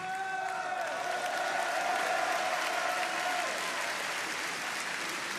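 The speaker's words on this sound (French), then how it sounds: "Oui, applaudissez-la." Applause from an audience at a political rally in Cannes holds steady and moderately loud from start to finish, with faint crowd noise mixed in.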